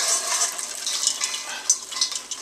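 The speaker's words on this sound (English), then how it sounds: "Next, pour out the popcorn to keep it from burning." Kettle corn poured out of a stovetop pot gives a continuous rattling hiss of popcorn tumbling and scraping, with small irregular bursts, close and steady, with no voices.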